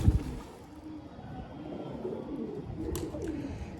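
Pigeon cooing softly at close range, low rounded coos repeating over several seconds amid faint background noise, with no one speaking.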